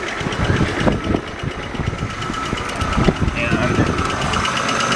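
A 1995 Audi A6 Quattro engine idles nearby just after starting, making a loud, steady, rough rumble. Someone talks over it.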